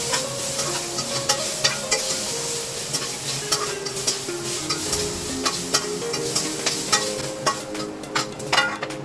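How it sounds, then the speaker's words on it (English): White onion and ginger sautéing in olive oil in a wok, a steady sizzle broken by frequent sharp scrapes and clanks of a spatula stirring, close and fairly loud, with no talking. "Not sauté white onion and ginger."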